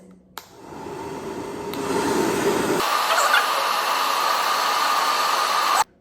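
A hair dryer on a cool setting, used to dry eyelashes after makeup, blows as a steady close airy whoosh that starts abruptly, shifts to a brighter, higher hiss midway, and cuts off sharply near the end, with no talking.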